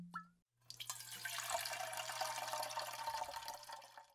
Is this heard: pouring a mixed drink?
yes